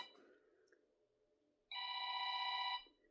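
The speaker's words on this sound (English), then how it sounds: "Oh no. Phone's ringing." A telephone rings once, a bright trilling electronic bell lasting about a second, clear and close after a quiet low hum.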